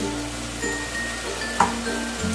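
Ground spices sizzle gently in hot oil for an aar fish curry, a steady soft fry beneath a low kitchen hum, broken by one brief clink of a utensil against the pan.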